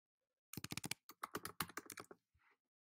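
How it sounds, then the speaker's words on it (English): Rapid typing on a computer keyboard while entering a prompt: a quick run of close, crisp key clicks with a short pause partway through, then a few softer taps at the end. "I first need to type in the prompt that I want to create."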